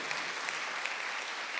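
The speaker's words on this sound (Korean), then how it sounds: "박수해서 내 쫓아버려야 돼요." A church congregation at a Sunday worship service claps together in a dense, steady burst of applause, moderately distant and filling the room.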